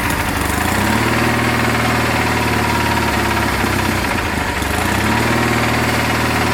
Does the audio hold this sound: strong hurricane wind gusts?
no